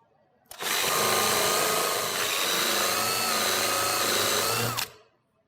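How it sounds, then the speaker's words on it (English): A power drill with a Forstner bit whirs steadily at high speed for about four seconds, starting and stopping abruptly, with a grinding, boring tone as it countersinks about half an inch into a wooden barn door. "we'll use our Forstner bit to countersink about 7/16 to a ½ inch"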